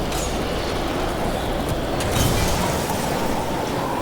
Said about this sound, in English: Oh, here comes the localized storm.